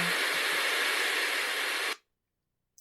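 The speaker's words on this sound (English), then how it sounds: "That's my white noise for trying to get some sleep." Steady hissing broadband white noise, played to help with sleep, runs loud and even for about two seconds, then cuts off abruptly into silence.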